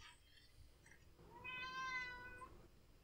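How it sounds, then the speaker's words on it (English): A cat lets out one clear, drawn-out meow nearby in a quiet room, preceded by soft faint rustling. "Is that one of our cats, Andy?"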